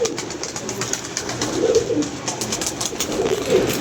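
Pigeons kept by a fancier coo softly in their loft, low murmuring calls swelling around the middle and again near the end over a steady background hiss, with no talking.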